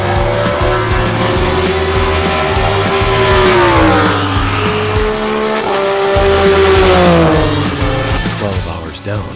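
Vintage race cars at the Classic 24 at Daytona roar past with a loud, rising and falling engine drone and tire squeal, one car after another sweeping by up close, while an announcer talks over the noise.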